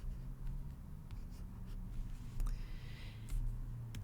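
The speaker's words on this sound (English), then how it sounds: "And I'm just going to write out January, week 1." A stylus writes on a reMarkable Paper tablet, giving faint, close scratchy strokes in short irregular bursts over quiet background hiss.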